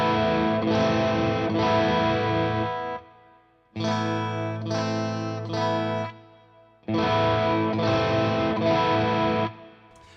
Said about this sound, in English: All it does is pushes the front end of the amplifier a little bit harder and gives you a little bit of breakup.